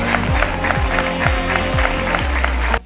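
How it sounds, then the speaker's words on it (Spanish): Loud crowd applause for young players at a Pozoblanco basketball club season presentation, sustained clapping with a pulsing rhythmic undertone that stops abruptly at the end. "Un fuerte aplauso para los chicos de Benjamín y de Juanma."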